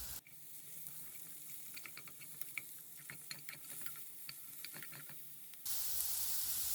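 Onions fry in oil in a pan over lowered heat, a soft steady sizzle dotted with small crackles and pops, close and quiet, ending in a louder wash of hiss.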